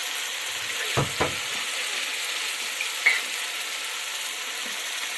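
Garlic fries for Egyptian bessara, a soft, even sizzle close in a pan with a couple of stirring knocks and a faint clink, no voices.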